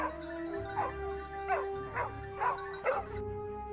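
Hunting dogs bark and yip while tracking a wild boar, a series of five or six sharp barks in an irregular rhythm over a steady background hum, moderately close.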